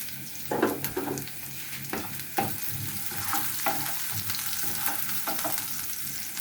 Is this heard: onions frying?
yes